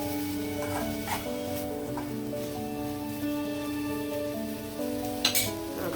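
Green chillies and curry leaves stirred into hot oil in a pan for a tomato curry, giving a steady close sizzle with a few scraping stir sounds and no talking.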